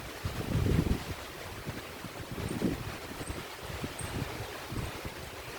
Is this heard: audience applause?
no